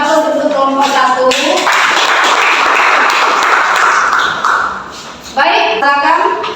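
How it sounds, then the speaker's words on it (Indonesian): Applause from a classroom audience for the first student group after its presentation, a dense burst of clapping lasting several seconds, with brief talk before and after it. "Aplaus untuk kelompok 1."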